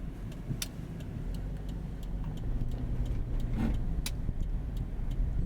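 A car drives through snowy streets during a winter storm in Norwich, Connecticut, its engine and road noise forming a steady interior rumble, with a regular ticking, probably a turn signal, on top.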